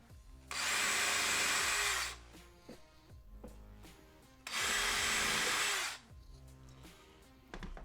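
A power drill whirs in two loud bursts of about a second and a half each, drilling into a countertop, separated by a quiet pause with light tool handling.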